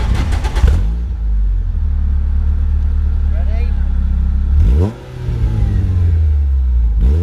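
A Renault Clio 172 engine idles with a steady low rumble, surges in a brief rev near the start, dips for a moment and then settles back to a loud, close idle, with people talking over it.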